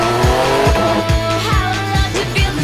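GT race car accelerating hard on a circuit between corners, a loud onboard engine roar with rhythmic rising revs and repeated gear changes, close and dominant.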